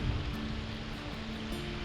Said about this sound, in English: At first, it just trickles over Glacier's famous multicolored rocks.